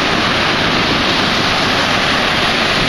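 Steady broadband roar of ocean surf breaking at a beach, continuous and fairly loud throughout with some wind noise, no voices.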